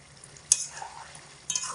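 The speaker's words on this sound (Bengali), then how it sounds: "এবার এটাকে হালকা একটু নাড়াচাড়া করে উনুন থেকে আমি নামিয়ে নেব।" Mutton curry in a pot, reduced to an oily gravy, being stirred lightly, with two sharp utensil clinks against the pot over a soft, faint sizzle.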